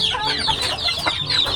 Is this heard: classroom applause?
no